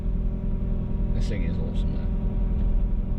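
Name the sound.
car engine rumbling with brutal clutch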